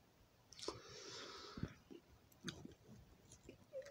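Close, quiet crunching and chewing of Lay's Wavy spring onion flavour crisps, with a few crisp bites and soft mouth noises and a brief rustle, no talking.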